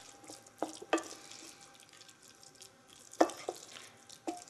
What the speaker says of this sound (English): Now we're going to stir to incorporate all of this.